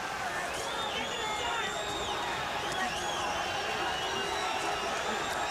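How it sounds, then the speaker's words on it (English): Boxing arena crowd applauding at the end of a fight between Roberto Duran and Vinny Pazienza, a steady wash of distant clapping and cheering that runs throughout, with faint voices in the background. "Crowd starting to applaud the end of the fight"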